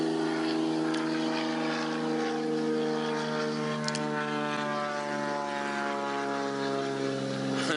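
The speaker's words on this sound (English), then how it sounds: "It's just a plane flying over us." A propeller airplane passes overhead during an afternoon safari game drive in the bush. It makes a steady, droning hum with a clear harmonic tone, moderately faint and constant throughout, with no speech.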